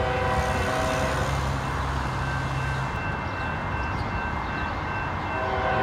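A northbound Norfolk Southern freight train on the Dayton District in Lockland, Ohio, rumbles steadily as it approaches, with a long sustained horn blast early that then stops while the train noise carries on.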